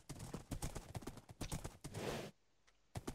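Horse hooves in the video game Minecraft, a quick run of loud, evenly spaced clip-clop steps followed by a short pause and one more step.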